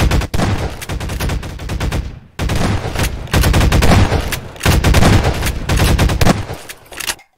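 Shotgun and weapon fire in a Half-Life 2 Deathmatch game: loud, close, rapid bursts of shots in about four long volleys separated by brief silent gaps.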